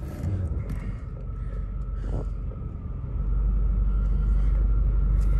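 A 1996 Chevrolet Corvette C4 idles with a steady low engine rumble, which thickens and grows louder about three seconds in as the car is shifted into reverse; no voices are heard.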